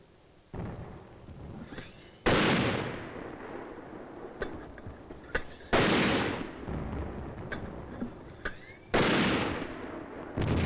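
Mortar rounds fired at enemy positions, guided by an aerial observer, boom out as several sharp, loud blasts spaced a few seconds apart, each followed by a rumbling tail over continuous background noise.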